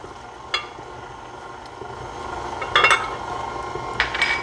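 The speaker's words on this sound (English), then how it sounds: "Give that a little stir around." A utensil stirs cream cheese in a bowl, giving soft scraping with a few light clinks and taps against the bowl's side, close and fairly quiet.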